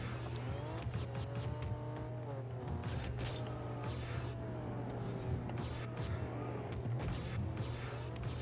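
A Rocket League car boosts in the video game with a continuous engine roar and hiss, punctuated by repeated sharp whooshes and tire-like squeals over a low steady hum, loud and close throughout.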